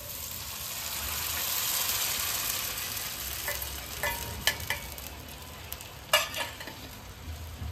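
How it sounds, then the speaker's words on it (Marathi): Vegetables simmer with paneer chili masala in a pan under a steady sizzling hiss, and a few sharp scraping stir strokes come in toward the end, close by. "हे छान असं हलवून घ्यायचं"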